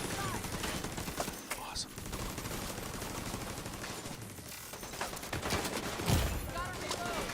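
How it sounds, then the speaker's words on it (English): A video-game minigun fires in a continuous rattling stream of rapid shots, steady and loud throughout, with a voice briefly speaking over the gunfire. "We need that minigun!"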